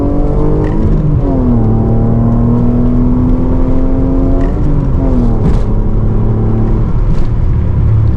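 An Alfa Romeo Spider 916 3.0L 24V engine revs loudly up and down inside the cabin, pitch climbing and falling through gear changes with a deep, throaty growl.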